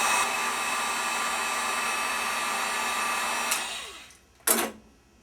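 A heat gun heating a ferrule blows with a steady, loud, close rushing whine, then winds down and clicks off, followed by a short final burst.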